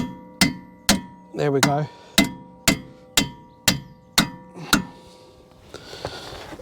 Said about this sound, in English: just get yourself a mallet and just tap them through